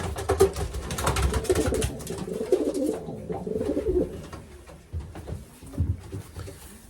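Racing pigeons in a loft give repeated low, throaty coos that overlap in soft rolling phrases, close by, with light rustling and shuffling between calls and no talking.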